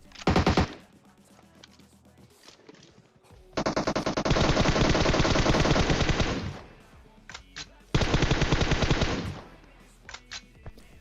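Automatic gunfire from a PUBG Mobile match: a short burst, then two long sustained volleys of rapid shots, loud and close, separated by a few scattered single cracks.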